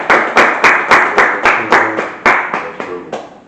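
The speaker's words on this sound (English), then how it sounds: "So let's give a round of applause." An audience gives a round of applause at a live in-person interview, a series of loud, sharp clapping bursts in a steady rhythm that fades toward the end, heard alone without talk.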